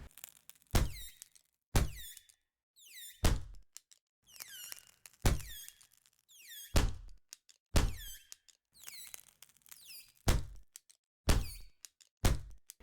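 Fireworks crackle effect built in GDevelop5, heard as a series of sharp cracking bursts, roughly one every second or so, each with a bright sizzling tail, separated by silence and clear with no talk.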